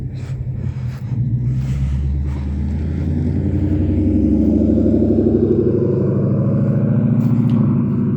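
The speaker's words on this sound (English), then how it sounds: "So I'm gonna let this car pass." A car passes along a residential street, its engine rumble and tire noise building steadily from near to loud as it draws close, with no talk.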